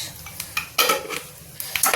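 A tadka (tempering) being stirred in a pan with Kashmiri chili added and the gas just switched off: a few clinks and scrapes of a utensil against metal, close and moderately loud, with brief faint hiss between strokes.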